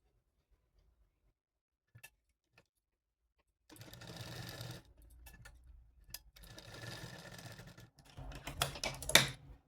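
A sewing machine stitches two pieces of fabric together for a small Laddu Gopal deity outfit, running in three close, steady bursts of rapid needle clatter separated by brief pauses, with a few faint clicks before it starts.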